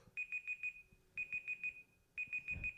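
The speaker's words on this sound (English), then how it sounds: "What's the beep coming from?" Three bursts of four quick electronic beeps each, coming from a computer, clear and fairly close over a quiet room with faint low background rumble.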